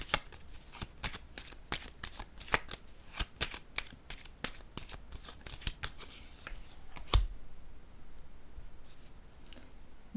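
Playing cards are shuffled and handled, producing a quick run of crisp snaps and flicks, then a single sharp tap as one card is set down on a table, close and quiet.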